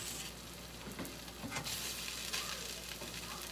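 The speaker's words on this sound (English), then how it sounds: "I'm just gonna throw my other bread on because it needs to cook quickly" Bread frying in a hot pan gives off a steady, close sizzle that holds evenly throughout, with a few soft scraping stirs on top.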